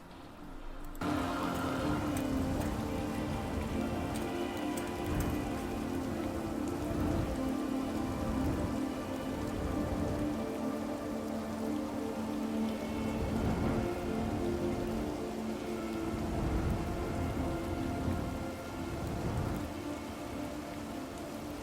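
Steady rain from the video game Cyberpunk 2077 falls on surfaces as a dense, continuous patter, with soft rumbles of thunder underneath, alone and without any voices throughout.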